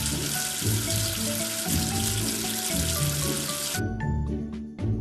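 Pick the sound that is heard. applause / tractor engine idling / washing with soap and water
washing with soap and water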